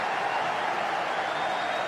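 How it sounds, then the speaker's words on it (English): A cricket crowd in a packed stadium roars and chants at spinner Nathan Lyon, a steady, dense wash of massed voices holding at an even level throughout. "Listen to the crowd getting into Nathan Lyon"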